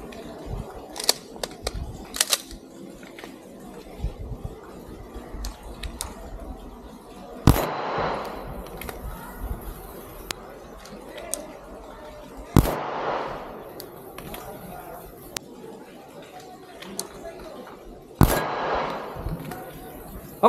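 A 9mm pistol fires sharp, loud reports during a competition shooting drill, spaced apart with a few quick bursts, over quiet background and some speech between shots.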